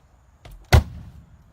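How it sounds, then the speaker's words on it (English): The door of an older Mercedes SEL slams shut in a single heavy, solid thud preceded by a faint click, loud and close with a brief dull decay. "So I have to slam that door for you one more time."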